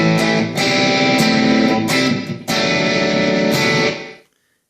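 An electric guitar with an open A rings out in strummed, distorted chords, several loud attacks sustaining before the last one cuts off into silence.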